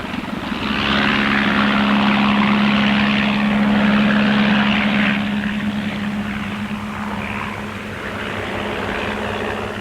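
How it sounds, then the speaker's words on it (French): Don Sheldon's bush pilot propeller plane drops climbers and gear on the Ross glacier, its engine droning loudly and steadily throughout, with a strong low hum that eases slightly toward the end. "L'avion de Don Sheldon, le fameux Bush pilote, dépose grimpeurs et matériel sur le glacier de Ross."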